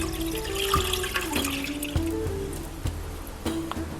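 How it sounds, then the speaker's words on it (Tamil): Half a litre of milk poured into a pan for bread pudding, a steady liquid splashing and trickling close by, with a few clinks of the container against the pan. "இப்போது ஒரு பேனில் எடுத்து வச்சுருக்கிற 1/2 லிட்டர் மில்க் சேர்த்துக்கலாம்."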